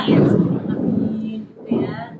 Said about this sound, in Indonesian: Itu suara petir.